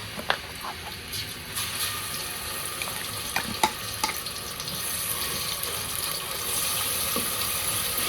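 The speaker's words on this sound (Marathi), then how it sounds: "मी सगळा मसाला ह्यात टाकून घेते तेलामध्ये" Steady sizzling of spice paste frying in hot oil for a chicken curry, with a few sharp clicks and stirring sounds over a constant hiss.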